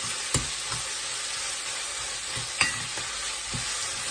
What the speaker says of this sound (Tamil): இதுவும் நல்லா வதக்கணும் நல்லா குழைய பச்சை வாசனைலாம் போக நல்லா வதக்கணும்